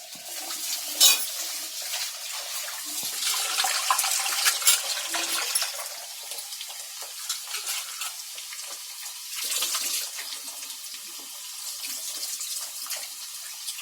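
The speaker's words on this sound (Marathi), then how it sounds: "तांदूळ चांगले 2-3दा धुवायचे." Rice being washed in water for a Konkani-style meal, with continuous splashing and sloshing of water, close and moderately loud, swelling and easing over time with no talk.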